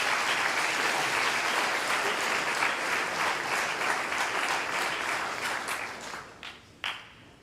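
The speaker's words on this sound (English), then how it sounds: "Let's give them a round of applause." Audience at a high school sports awards ceremony gives a round of applause for honored students, dense clapping that thins out near the end into a few final scattered claps.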